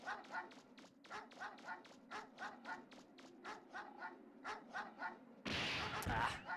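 Repeated dog barks from the Mega Man Legends video game come in a steady rapid series, moderately loud, before a burst of noisier game sound takes over near the end.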